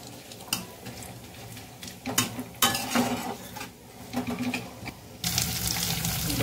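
Cumin seeds and dried red chillies frying in a hot pan at home, a steady crackling sizzle with scattered clinks and stirring scrapes, moderately close and without any talk.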